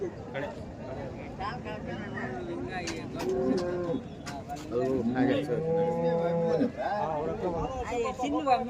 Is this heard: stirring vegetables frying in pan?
no